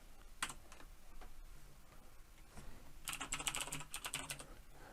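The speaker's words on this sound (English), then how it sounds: "I start by typing destination" Someone types on a computer keyboard in a quiet room, with soft scattered keystrokes at first and then a faster burst of close, crisp clicks.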